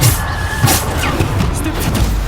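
Bombarda explosion spells go off in Hogwarts Legacy combat, a few booming blasts and crashes amid busy battle noise, with brief shouted spell calls over them.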